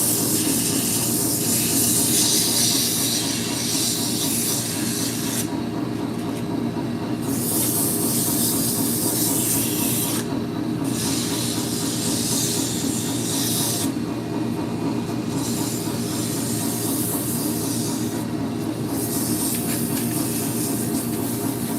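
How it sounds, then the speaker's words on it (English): Sandpaper presses against a cherry wood piece spinning on a lathe, a loud continuous hissing rush over the motor's steady hum, with rhythmic swells as the sanding strokes shift, no talking. "We'll do a little bit of sanding."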